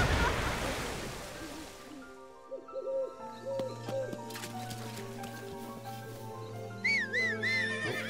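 A horse whinnies in the video game The Legend of Zelda: Breath of the Wild, heard as several short, rising calls over a soft, washing ambient background, moderately close and fairly quiet, with no speech over it.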